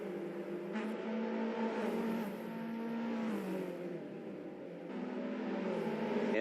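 Race cars launching at the start of an Assetto Corsa league race, with several engines droning and revving steadily together at a moderate level and no one talking.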